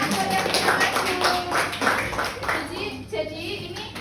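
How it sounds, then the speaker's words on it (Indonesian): Children in a classroom clap for classmates who came to the front, a brief scattered patter of hands under a teacher's ongoing talk. "Bisa kasih tepuk tangan buat yang udah maju"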